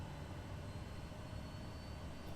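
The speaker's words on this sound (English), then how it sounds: "It sounds like a jet engine." A steady, even aircraft jet engine roar as it spins up, with a broad low rumble and faint high whine, continuous and close, no voices.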